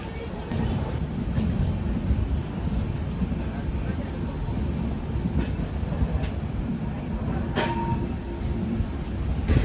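A train rumbles heavily along the rails in a dense, continuous roar while arriving at Araku railway station, with faint squeals of wheels and murmuring voices in the background.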